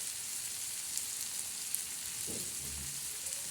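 Onion, tomato and ginger-garlic with cumin frying in a pan, a quiet steady sizzle with a brief scrape or stir near the end.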